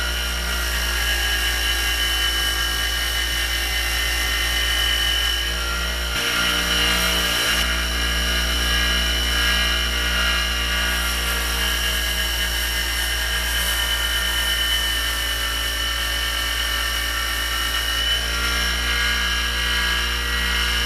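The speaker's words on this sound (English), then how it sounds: "we're just polishing these things to a mirror finish" A power tool polishes a Colt 1911 guide rod from a Rock Island 2011 pistol to a mirror finish, giving a steady, loud, high-pitched whine that runs continuously with a brief dip in the middle and no talking.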